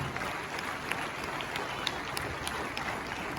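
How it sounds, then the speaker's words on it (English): Applause from an audience for the teachers at a school annual day function, a steady, moderately distant clatter of many hands sustained throughout with a few sharper claps standing out. "Can we clap for the wonderful teachers here?"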